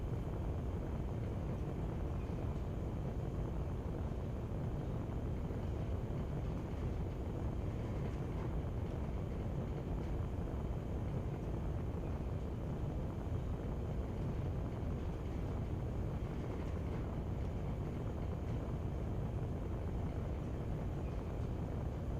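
Aircraft cruising in a video game on the way back to base, a low, steady engine drone that stays faint and unchanging throughout, with no talk.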